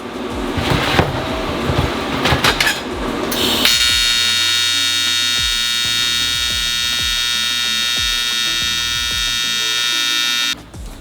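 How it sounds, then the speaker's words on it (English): Welding a metal bracket onto a Subaru WRX STI with an EG33 engine swap: a few seconds of loud, crackling, spattering bursts, then a steady harsh electric buzz that holds for about seven seconds and cuts off abruptly, with no talking. "I need to finish welding like this section"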